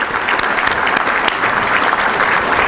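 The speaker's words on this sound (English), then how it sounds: "Let's have a round of applause, please." Audience applause at a veterans breakfast held by a chamber of commerce, a steady dense patter of clapping hands filling the room, sustained and even for the whole stretch with no voices over it.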